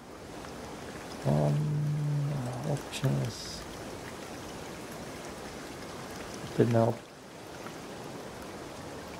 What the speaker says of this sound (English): For some, we got loud water noises.